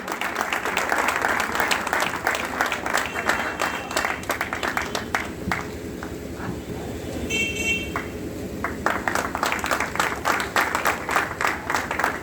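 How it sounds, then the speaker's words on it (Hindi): Loud, dense applause from a crowd at an award ceremony honoring a motorcyclist, sustained clapping throughout with a brief dip midway, mixed with scattered voices and a few horn-like toots. "जोरदार तालियों के लिए"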